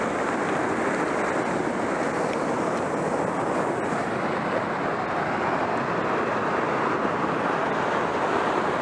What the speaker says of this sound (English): Look at the water coming over this rock.